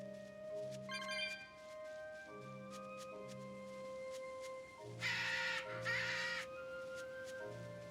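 Crow squawking in the video game Tales of Berseria, several harsh caws repeating in bursts over a soft game music bed, with two louder, rougher squawks near the end.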